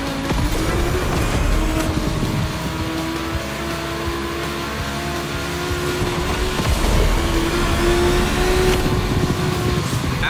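Racing cars, an Audi and a Porsche, in The Crew Motorfest video game: loud, continuous engine roar with rising and falling revs and shifting pitch, with no voices over it.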